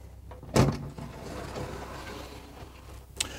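A large closet door in a 2006 Elite Suites 36 TKE fifth-wheel RV sliding open, a single sharp rumbling thud followed by a low scraping rattle, with a brief knock near the end.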